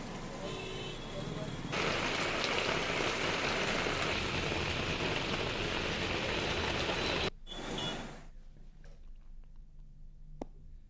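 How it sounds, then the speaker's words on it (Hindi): Heavy rain driven by strong wind in Sitapur, Uttar Pradesh, a dense steady roar that holds loud for several seconds, then cuts out abruptly and leaves a quieter patter of drops. "सीतापुर में तेज हवा के साथ बारिश हुई।"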